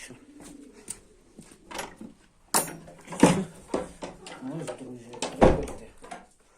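Pigeons coo softly in short bursts while a person speaks nearby, with a couple of sharp knocks like a latch or door.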